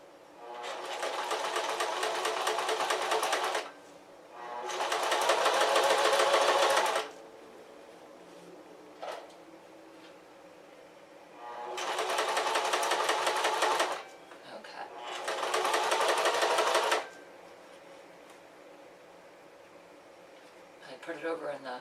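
A sewing machine stitches walking shorts in four long bursts separated by pauses, loud and close, with a brief tap or click in one of the quiet gaps.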